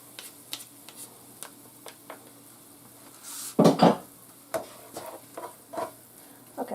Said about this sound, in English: I like to scrape all my little morsels off of this thing because it gets caught